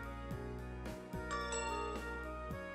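A doorbell chime from the video game Trails of Cold Steel rings out in a bright ding-dong, its ringing tones layered over steady background game music.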